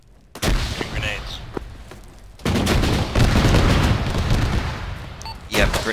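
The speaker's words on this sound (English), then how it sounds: "Yep, grenade launcher is behind us." Grenade launcher explosions in the military video game ArmA: repeated loud booms and rumbling blasts, with a dense, sustained barrage after a short quieter stretch, close and heavy.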